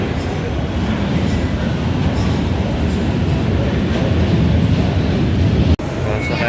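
A train pulling into Monumento station on the elevated rail line, a steady loud rumble of wheels and motors filling the platform, with a brief abrupt dropout near the end.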